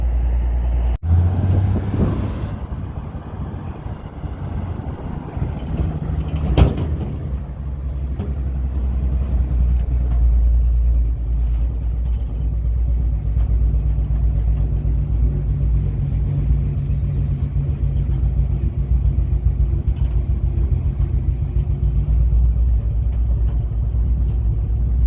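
A restored truck engine rumbles steadily from inside the cab on a test drive, with a sharp knock early on, then a continuous low drone that holds for the rest of the run with no talk.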